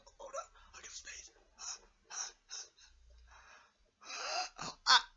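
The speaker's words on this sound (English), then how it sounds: "Cover your mouth when you sneeze, you!" A cartoon character gasps and wheezes in short breathy bursts, then sneezes sharply and close at the end.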